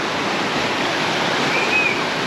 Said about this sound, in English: watch the waves crashing against the rocks